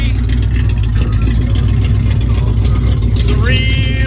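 Deep, steady rumble of a 1969 Dodge Daytona's 426 Hemi V8 heard from inside the car, loud and continuous throughout, with a slight rise in pitch near the end.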